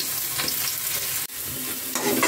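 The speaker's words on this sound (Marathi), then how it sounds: "कांदा छान आपल्याला 1-2 मिनिटं परतवून घ्यायचा आहे." Chopped onion sautéing and being stirred in a hot pan with ginger, garlic and chili for veg chowmein, a steady close sizzle with scraping stirs and a brief clatter midway.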